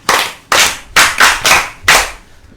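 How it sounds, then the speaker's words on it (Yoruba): Children clap their hands at a storytelling and singing programme: six loud, crisp claps close by, evenly spaced about half a second apart, with each clap ringing briefly before the next. Nobody speaks. "Ọyẹ pàtẹ́wọ́ o."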